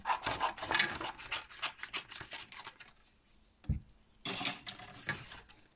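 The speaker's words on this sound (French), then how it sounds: "une fois mon cercle tracé, je découpe grossièrement autour" Scissors roughly cutting around a drawn circle on card, a quick series of rasping snips and rubbing scrapes close up, with a brief pause before more cutting.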